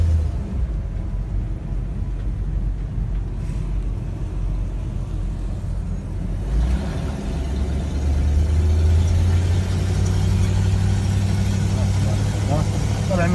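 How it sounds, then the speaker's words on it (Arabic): A 1960 Chevrolet Impala engine idles with a low, steady rumble throughout, growing slightly louder and deeper partway through while a voice talks over it. "صوت الماكينة القديمة اللي كلنا نعرفها"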